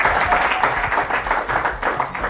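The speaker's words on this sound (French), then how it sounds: "Applaudissez très fort pour elle." Crowd applause at an elimination episode of a youth football contest, steady loud clapping from a sizable gathering throughout, with faint cheering underneath.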